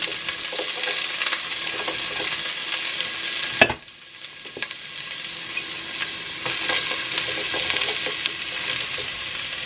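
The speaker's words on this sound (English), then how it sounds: "It's already heated up, so I'm going to add my celery, onions, and carrots." Chopped celery, onions and carrots sizzle in hot olive oil in a soup pot, a loud steady frying hiss broken briefly by a clunk and stirring before the sizzle returns.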